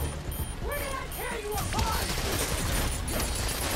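Machine gun fire bursts in Spider-Man: Miles Morales, a dense, continuous rattle of gunfire with game effects and chirping tones over it, loud and steady throughout.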